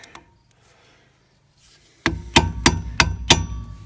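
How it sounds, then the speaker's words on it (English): Five sharp hammer blows strike in a steady rhythm after a quiet stretch, each a loud ringing metallic knock close by, during rear brake cylinder replacement on a 2005 Pontiac Wave. "Hammer that down so it doesn't wiggle anywhere, at least not very far."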